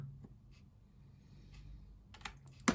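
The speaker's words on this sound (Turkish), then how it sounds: "Şimdi optik switch'i ilk defa uzun süreli tecrübe edeceğim bu küçük klavyede." Keys clacking on a small custom mechanical keyboard fitted with optical switches, a quick run of close, crisp taps that ends in a louder flurry, with no one speaking.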